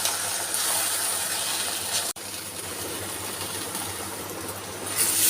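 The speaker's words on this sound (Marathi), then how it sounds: "आणि हा मसाला तेलामध्ये परतून घेत आहे चांगला" Ground masala, blended in a mixer, sautés in hot oil for a kurdai rassa bhaji, making a steady, bright sizzling hiss throughout, broken by one sharp click partway through, with no talking.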